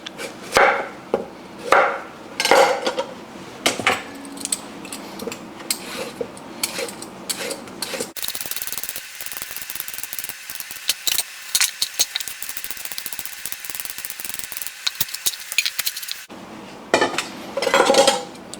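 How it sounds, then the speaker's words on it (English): Carrots being peeled for a beef stew with dark beer, giving repeated close scraping strokes in short bursts, then a stretch of steady brighter rasping before the strokes return. "Next, let's peel the carrots."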